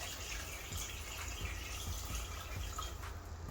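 About four cups of water pour steadily into a cooking pot for quinoa, a continuous splashing gush with no pauses and no voices.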